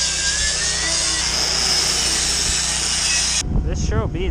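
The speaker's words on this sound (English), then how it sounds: "if this welder didn't fire up right now. Guess she needs the choke." An engine-driven welder on a service truck runs with a loud, steady droning hum that cuts off abruptly near the end, followed by someone talking.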